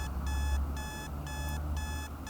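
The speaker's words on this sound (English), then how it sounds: "you won't be able to turn off the alarm so easily now." An alarm clock rings in repeating bursts of bright electronic beeping, each burst about half a second long with short gaps between, steady and moderately loud in a quiet room.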